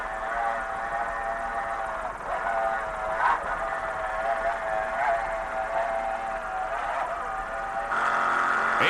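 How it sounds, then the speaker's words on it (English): A 26-foot Corsa racing powerboat with one 600-horsepower Blue Thunder engine and a Mercury drive, racing at the 1995 Jacksonville Grand Prix, gives a loud, steady, high-pitched engine drone that holds throughout with no voices. "a 26-foot Corsa powered by one 600-horsepower Blue Thunder engine with a Mercury drive"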